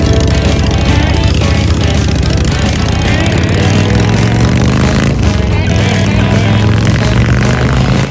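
A custom hardtail Paco frame motorcycle trike built in-house runs steadily up close, its engine a loud, continuous rumble for the full stretch with no pauses and no one talking over it.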